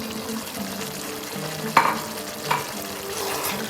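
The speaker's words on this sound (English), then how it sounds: "We mix this nicely." Lucknowi nihari gosht with onion, stock and yogurt stirred in a pan, a continuous low frying sizzle with two distinct scrapes of the spoon against the pan, no voices.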